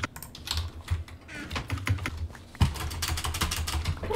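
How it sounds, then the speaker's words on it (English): Rapid keystrokes clatter on a computer keyboard during a Minecraft Bed Wars session, a close, busy run of sharp clicks and taps in irregular bursts with no talking. "I can hear your keyboard"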